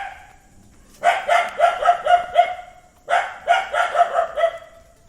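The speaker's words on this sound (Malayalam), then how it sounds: "അവിടെയും നേരത്തെ കാട്ടുപോത്തിനെ ഓടിച്ചതുപോലുള്ള നായയുടെ കുര കേൾക്കുന്നുണ്ട്" A dog barks in a city street in Thiruvananthapuram where wild boars roam, two rapid bursts of repeated barks, fairly close and clear with little else around.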